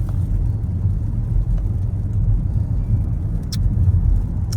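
Steady low road rumble from inside a car cruising along a highway, a constant close drone with no talk.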